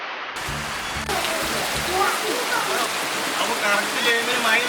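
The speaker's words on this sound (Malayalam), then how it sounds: "ഇനി ഇതിലേക്ക് വെള്ളം കൂടി നിറക്കാനുണ്ട്" Water pours into a homemade, low-cost backyard swimming pool in a continuous hissing rush, while voices are heard near the start and scattered through the flow.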